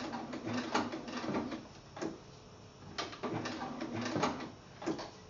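A sewing machine stitches fabric appliqué for a kiwi quilt block, running in short whirring bursts broken by brief pauses where the needle stops and the fabric is turned, fairly close and steady.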